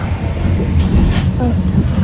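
Steady rumble and rattling of a moving train carriage from inside, with faint voices in the background.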